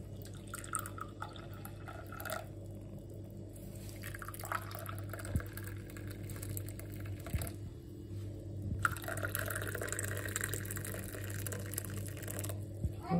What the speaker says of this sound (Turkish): Şöyle çayımızı dökelim.